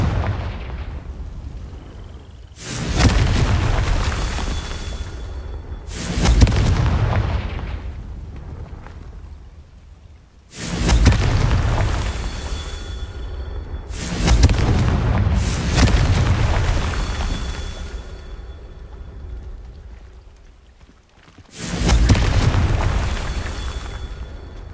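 Repeated loud booming blasts from Confringo fire spells in Hogwarts Legacy, five heavy explosions spaced a few seconds apart, each with a sharp crack and a long rumbling decay, no talking.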